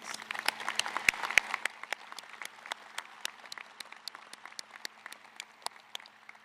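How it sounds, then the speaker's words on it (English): A modest audience claps for university administrators at an opening convocation, a thin, scattered patter of hands, fairly distant and quiet, tapering gradually over several seconds. "let's please give these administrators a round of applause"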